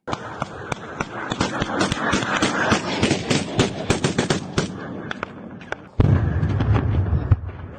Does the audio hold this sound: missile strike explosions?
yes